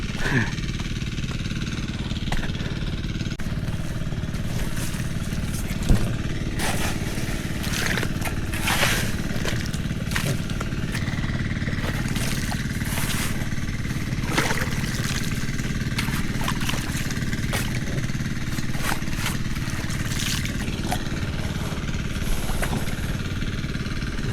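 A diesel-powered machine engine runs in a continuous, steady low drone with a rough mechanical rattle, holding an even level for the whole stretch with voices in the background.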